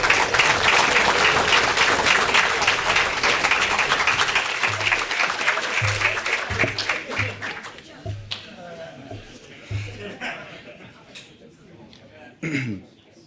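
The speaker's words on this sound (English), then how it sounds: "please stand up and give yourself a round of applause" Audience applause at a military first-quarter awards ceremony on Lajes Field in the Azores, a dense crowd clapping loudly for about eight seconds before thinning into scattered claps, coughs and a few low voices.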